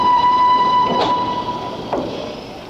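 Railway wagons rolling through a marshalling yard and leaving a retarder, with a steady loud rumble, a sustained high squealing whine and two sharp clanks about a second apart.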